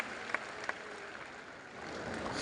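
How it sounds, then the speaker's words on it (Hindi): An audience at a Delhi business success day event claps steadily, a fairly faint, even wash of applause with a couple of sharper single claps standing out near the start. "जोरदार ताली हो जाए"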